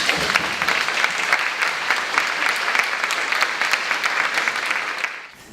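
An audience at a Laguna Art Museum centennial evening program claps warmly, with dense, even applause holding steady for about five seconds before fading at the end.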